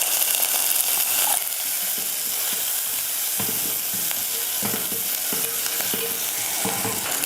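Chopped shallots, green chillies, curry leaves and a pinch of asafoetida sauté in hot oil for a mutton kulambu, crackling steadily while a spatula scrapes and stirs in uneven bursts.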